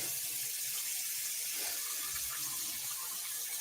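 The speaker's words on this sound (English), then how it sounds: "So I'm just going to give my hands a wash." Steady running water from a kitchen tap as hands are washed under it, a continuous even hiss with slight splashing throughout.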